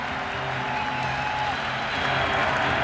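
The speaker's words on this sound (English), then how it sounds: "Just listen to this crowd at the Rose Garden" A large basketball crowd at the Rose Garden arena roars and applauds in a dense, sustained wash of noise that builds slightly toward the end, with no clear single voice.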